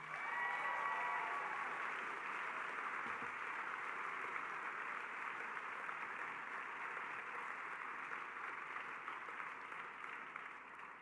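Audience at a gala applauding in a large hall, a steady, even wash of many hands clapping, fairly faint and distant, sustained without a break.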